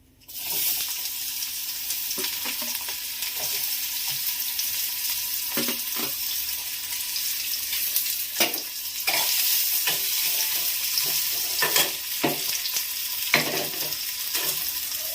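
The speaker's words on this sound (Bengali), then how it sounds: "তেলের উপরে দিয়ে দিচ্ছি পেঁয়াজ কুচনো।" Chopped onions frying in oil in a wok give a loud, continuous sizzle that starts abruptly and carries on under irregular sharp clacks of a spatula against the wok, with no talking.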